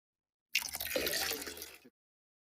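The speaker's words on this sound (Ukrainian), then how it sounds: "Вода лється." Water pouring from a tap into a glass during a kindergarten lesson, a short steady splashing stream of about a second and a half that is close and fairly loud, with no talk over it.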